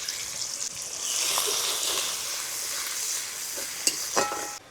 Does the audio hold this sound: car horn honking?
no